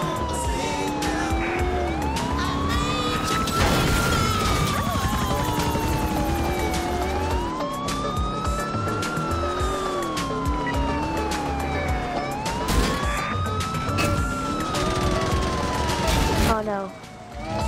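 A police car siren wails in Grand Theft Auto IV, its rising and falling tone sweeping repeatedly and loudly over game engine and street noise for the whole stretch, with no clear talking.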